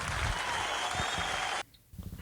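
Studio audience cheering and clapping loudly for about a second and a half before cutting off abruptly into quiet, followed by a few scattered sounds.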